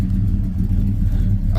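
An LS-swapped Chevrolet Monte Carlo G-body V8 running nearly out of fuel, a loud close engine rumble holding a steady low growl with slight rises in revs, no talk over it.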